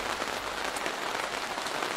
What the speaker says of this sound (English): It's raining right now in spaces